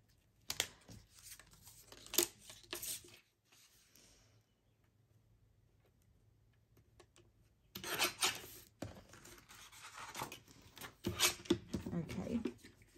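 Paper being trimmed for a faux front envelope: two short bursts of rasping, rubbing cuts close by, with a quiet pause between them.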